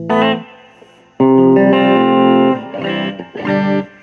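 Loud electric guitar chords ring out with warm amp tone and a reverb tail, strummed in a few separate bursts.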